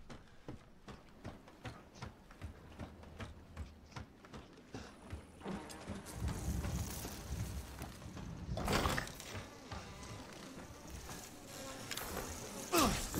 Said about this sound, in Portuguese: E queima os mosquitos de forma muito boa.